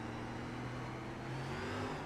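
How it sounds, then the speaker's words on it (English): Race car engine at Slinger Speedway during an SRX Series race, a steady loud drone with sustained harmonic tones that climb slightly under heavy throttle, running continuously without pause. "Oh, got on the throttle too hard there."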